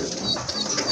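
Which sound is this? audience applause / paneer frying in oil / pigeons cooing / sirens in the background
pigeons cooing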